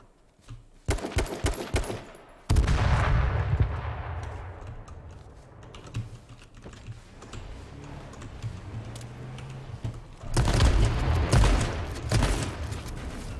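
Shotgun blasts in the battle royale game H1Z1, sharp separate shots in short bursts at the start and again near the end, with quieter clatter and rumble in between and no voices.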